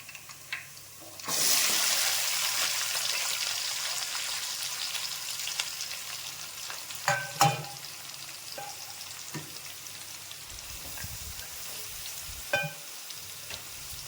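Chopped onions hit hot oil in a pan for an onion and drumstick curry. They burst into a loud, steady sizzle that carries on throughout, with a few clinks of a utensil stirring nearby and no voices.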